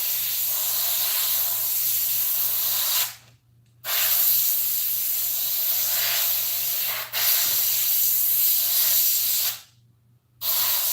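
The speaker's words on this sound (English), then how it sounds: "The closer that I get with the airbrush, the finer the line it'll give me." An airbrush sprays paint onto a Krampus mask, giving a steady hiss in three bursts broken by short pauses, close and alone with a faint low hum beneath.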